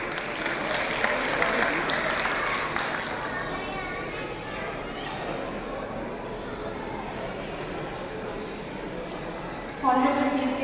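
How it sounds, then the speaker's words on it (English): Loud applause from a crowd fills the room, steady clapping with some chatter mixed in, and voices rise briefly near the end. "May I request all of you to give a round of applause to Hina Sadar."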